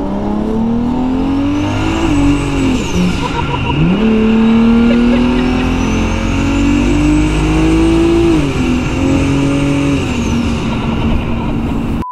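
A 1200 HP 1.5JZ engine in a widebody FRS on high boost revs loud and close, climbing and dropping in repeated swells with a high turbo whine riding over the roaring exhaust.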